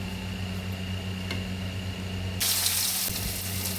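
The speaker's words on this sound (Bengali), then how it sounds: "তারপরে তেলটা যে গরম হয়ে গেল, তখন তেলটার মধ্যে পেঁয়াজগুলো ভাজার জন্য" Onions dropped into hot oil in a wok crackle into a sudden loud, steady sizzle partway through, after a quieter stretch of low hum and faint hiss.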